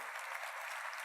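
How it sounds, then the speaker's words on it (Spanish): Brief burst of audience applause for Pedro Novo, a soft, even wash of clapping from a crowd, heard faintly and without talk. "un aplauso al señor Pedro Novo"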